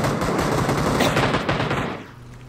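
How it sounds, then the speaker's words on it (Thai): Rapid automatic gunfire in the video game PUBG, a full magazine emptied in a dense burst of shots. The firing is loud and close, then cuts off and trails into quieter ambience near the end, with no talking. "จะยิงให้ดูแม็กนึงอ่ะ"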